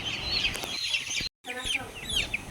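Chickens in a farm shed cluck and chirp in a busy, overlapping chorus, with a brief total dropout midway and a voice faintly present.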